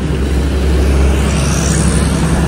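A Tata Indigo car is driven up onto a wheel alignment ramp at a tyre showroom, its engine a low steady rumble close by, with a continuous broadband workshop hiss and no talk.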